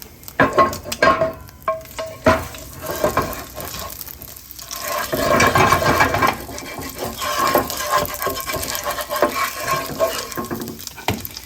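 Oil sizzling in a pan for pork belly fried rice, a steady crackling hiss close up that swells and stays continuous, mixed with clattering and stirring noises, with no speech.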